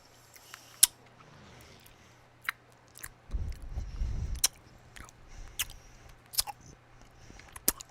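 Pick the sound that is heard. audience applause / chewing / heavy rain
chewing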